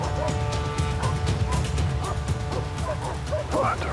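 Dogs bark in short, repeated yips and woofs at a middling distance during an outdoor military-style exercise, mixed with rustling movement and a continuous noisy background.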